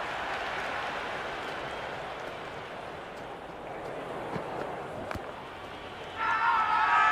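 A big Big Bash T20 cricket crowd at a Sydney Sixers vs Adelaide Strikers match gives a constant, distant roar under a commentator's talk, then surges louder with a sudden cheer near the end.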